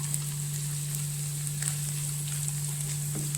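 Chopped onion and spring onion fry in a pan for a mushroom Manchurian curry, giving a steady, close hiss of sizzling oil with faint scattered crackles, alone without talk, over a constant low electrical hum.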